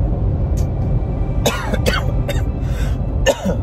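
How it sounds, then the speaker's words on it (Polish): Several harsh coughs and throat-clearing bursts in quick succession, close and loud, over a steady low background rumble. "Strasznie kaszel męczy od paru dni."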